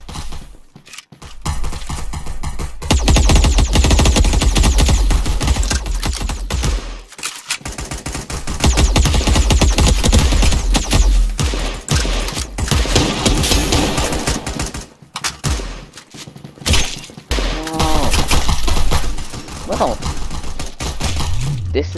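Gunfire in the shooter game Caliber: loud rapid bursts of automatic fire and single shots in dense clusters separated by short gaps, with some voice mixed in.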